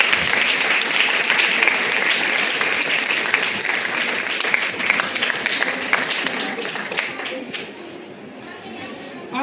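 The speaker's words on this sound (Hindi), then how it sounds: "एक बार अपने लिए ताली बजाओ।" An audience claps together in a broad, steady burst of applause that carries on for several seconds before thinning out toward the end.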